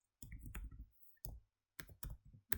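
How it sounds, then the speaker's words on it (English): Bursts of key clicks from typing on a computer keyboard in a word processor, several short clusters separated by pauses, close and moderately loud with no talking. "let's start off by typing out"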